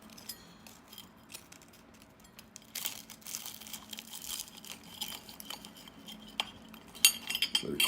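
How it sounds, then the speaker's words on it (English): A fork working through hot egg rolls stuffed with melted cheese and jalapeno, faint crinkly scraping and light clinks against a plate, close up and soft, ending in a few sharper taps. "I'm gonna use a fork to cut them open."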